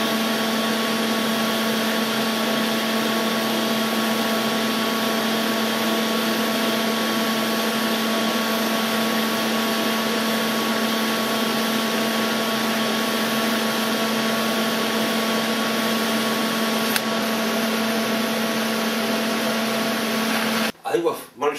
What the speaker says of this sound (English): This is half inch plate, we're going to weld down there.